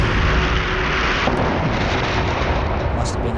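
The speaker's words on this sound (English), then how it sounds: "An explosion so loud it can be heard in London" The Caterpillar mine blowing up in Belgium, a huge underground blast heard as a loud, sustained, rumbling roar that stays dense and unbroken throughout.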